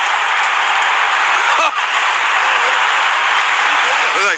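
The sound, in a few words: rugby crowd shouting go back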